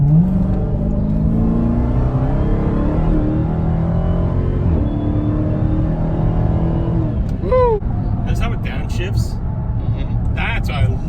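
Dodge Charger SRT Hellcat with a sport transmission, its engine droning loud and close as it accelerates, then dropping through downshifts with sharp revving blips toward the end.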